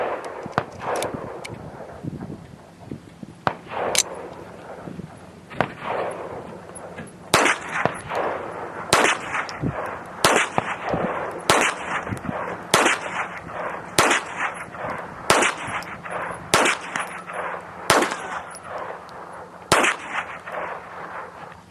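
Ten-odd sharp .22 pistol shots from a Smith & Wesson Victory firing Winchester High Velocity rounds, 1330 feet per second, spaced roughly a second or two apart at a steady range pace, loud and crisp with ringing tails.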